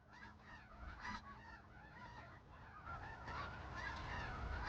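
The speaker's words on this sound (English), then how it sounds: "Spring arrives on the wings of snow geese." A flock of snow geese on Alaska's Kenai Peninsula in spring honking repeatedly, many overlapping calls at moderate distance over a soft background hiss.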